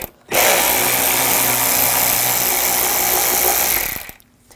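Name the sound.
power tool removing screws with a T20 socket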